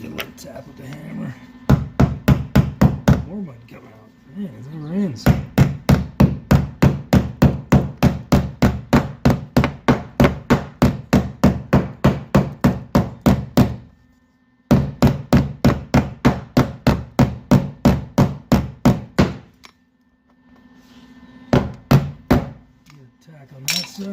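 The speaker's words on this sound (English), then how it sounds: "Tap with the hammer." A hammer taps steadily on the body of a classic car under restoration, long runs of rapid even blows with short pauses between them, loud and close, while someone talks briefly.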